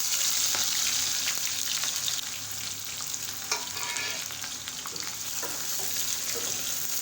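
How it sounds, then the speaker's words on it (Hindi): Two medium onions frying in hot oil with sautéed spices for a bottle gourd and mutton curry, a steady close sizzle with occasional crackles and stirring scrapes throughout. "प्याज डालने के बाद हमने इनको हल्का सा गुलाबी होने तक फ्राई कर लेना है।"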